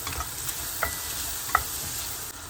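Chicken sautéing in a pan with oregano and black pepper for a chicken bread sandwich, a steady soft sizzle with a few light clicks of stirring, close and alone without talk.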